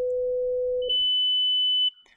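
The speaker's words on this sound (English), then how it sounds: "Another example of that change over time we can see in a much simpler sound, just consisting of two sine tones." Two pure sine tones, one near 500 Hz and one near 3000 Hz, sound in sequence: the low steady tone holds for under a second, then the high tone takes over and sustains clearly before cutting off.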